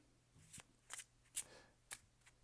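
Tarot cards are shuffled in a few quiet, separate riffling bursts, each short and close, with pauses between.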